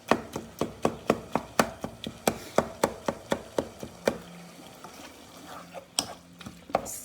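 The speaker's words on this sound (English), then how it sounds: "if you just break it up with the spoon" A spoon repeatedly striking and breaking up browning 5% fat minced beef in a pot for chilli con carne, a steady run of sharp close clacks over sizzling, slowing and thinning out toward the end.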